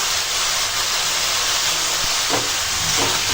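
Prawns coated with salt and turmeric sizzle in a hot pan, a loud steady frying hiss with a few faint clinks near the end.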